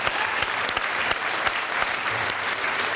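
A television comedy panel show's studio audience claps, a loud, continuous wash of applause from a large crowd with occasional sharper individual claps standing out.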